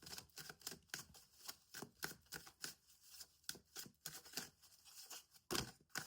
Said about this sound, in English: Just have patience with me while I shuffle these cards.